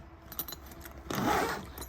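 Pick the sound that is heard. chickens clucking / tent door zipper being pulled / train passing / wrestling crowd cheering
tent door zipper being pulled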